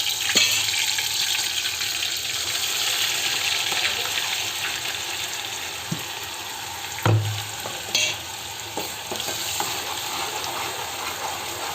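A masala gravy of ginger, onion, coconut and tomato fries in hot oil with a steady loud sizzle, broken by a few clanks and stirring scrapes.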